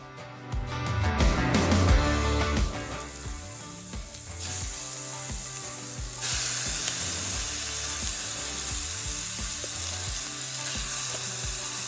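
Onions with salt sizzling in hot bacon grease for chili beans, a loud continuous close frying hiss with some scraping and clattering of a utensil in the pan, no talk.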